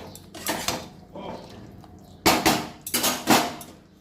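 Fish pieces for chilli fish are tipped into a pan and stirred, heard as a few separate metallic clanks and scrapes of a utensil against the pan, close and fairly loud, with short pauses between.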